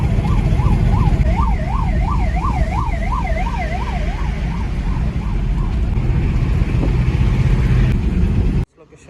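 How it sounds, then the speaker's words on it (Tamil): An ambulance siren wails in a rapid rising-and-falling pattern over dense road traffic and engine rumble, loud at first and then fading. "முன்னாடி ஆம்புலன்ஸ் வருது, அப்படியே ஓரமாக வழி கொடுப்போம்."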